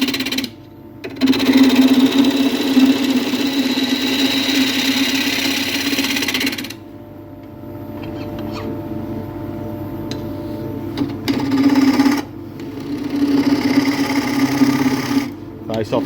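Wood lathe spinning a silky oak bowl blank while a half-inch spindle gouge cuts, a steady whirring hum with bursts of scraping shavings, interrupted by pauses, with someone talking over parts of it.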